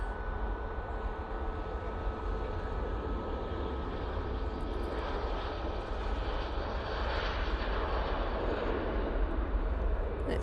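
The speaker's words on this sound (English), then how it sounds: "EasyJet has touched down." An easyJet plane landing at Manchester Airport gives a steady, distant jet roar that holds for about ten seconds with no break, alone and outdoors.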